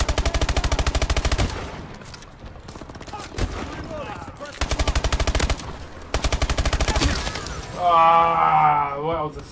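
A turret in a video game fires in rapid mechanical bursts, loud and close, with pauses between volleys. Voices and other game sounds come in near the end.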